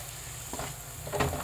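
Turmeric halwa stirred and cooked in ghee over a low flame, giving a soft steady sizzle with a couple of scraping stir strokes and no voices.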